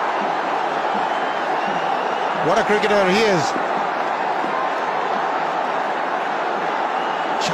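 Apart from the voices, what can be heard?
cricket stadium crowd cheering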